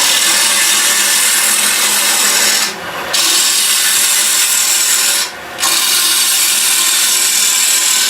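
A woodturning chisel cuts into a spinning wooden toffee dish on a lathe, giving a loud, harsh, continuous scraping hiss, close up, broken by two short pauses where the tool lifts off.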